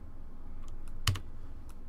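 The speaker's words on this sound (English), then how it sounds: "I go ahead and go up here and I type in twist and I give that a value" A single sharp computer keyboard keystroke, close and clear, stands out against a low steady background hum while text is entered into OpenSCAD modeling software.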